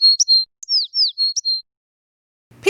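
A bird chirping sound effect plays during a children's storybook reading: a series of clear, high, rapid tweets in quick succession, followed by silence and the start of a voice.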